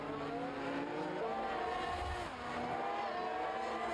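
Race cars battle for grip at the Belgium round, one running soft tires, their engines droning steadily with shifting tones and faint tire scrub layered beneath the continuous roar.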